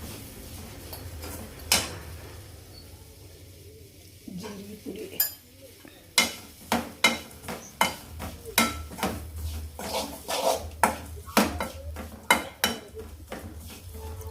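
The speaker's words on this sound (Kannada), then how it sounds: "ಹಾಗೆ ಒಂದು ಹತ್ತು ನಿಮಿಷ ಫ್ರೈ ಮಾಡಬೇಕು" Bitter gourd frying in a pan for Kannada-style fry, stirred with a metal spatula: a steady low sizzle under repeated sharp scraping and clinking strokes against the pan, coming in a quickening rhythm in the second half.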